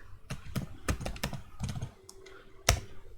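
Keys on a computer keyboard are tapped while Python commands are typed, a close, quiet run of scattered clicks with short pauses and one sharper keystroke near the end.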